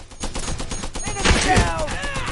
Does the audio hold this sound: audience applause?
no